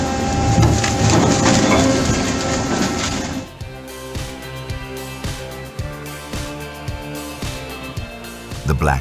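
A 770 HP industrial shredder tearing timber into wood chips, dense crunching and splintering at first, then a rhythmic series of heavy knocks and grinding thuds as the machine churns.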